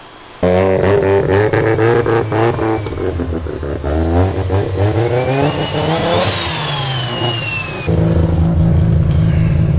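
A built Mazda RX7 rotary engine on a dyno with boost turned down revs hard through a loud rising pull, its pitch sweeping upward then dropping sharply before settling into a steady roar, close and unaccompanied by talk.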